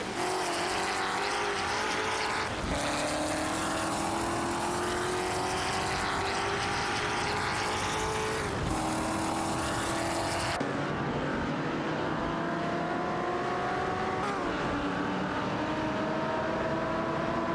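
Engines of a Chevrolet Corvette C3 and a Ferrari 250 GTO racing in a video game, continuous loud droning with rising and falling pitch through gear shifts, cars close and unbroken throughout.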